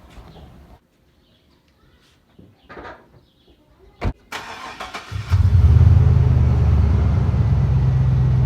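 After a few quiet clicks and a sharp door-like clunk, a lowered GMC Sierra pickup truck engine cranks and catches, settling into a loud, steady low idle close by.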